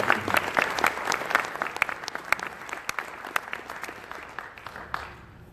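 An audience at a Tucson weather event gives a round of applause, a steady patter of many hands clapping that holds and then gradually fades, heard from a moderate distance.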